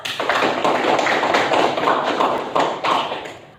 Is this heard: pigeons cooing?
no